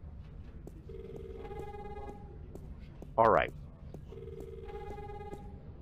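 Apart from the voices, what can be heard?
telephone ringing in The Longest Journey video game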